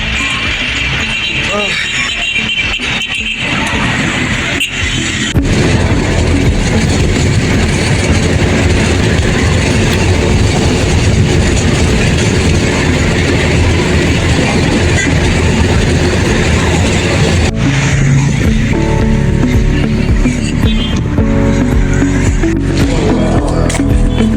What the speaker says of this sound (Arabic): 24 محطة في المترو من الجديد لحد علي منصور